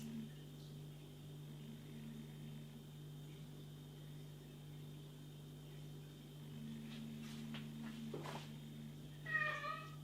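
An old deaf cat meows loudly a few times near the end, the calls rising over a steady low electrical hum and quiet room noise.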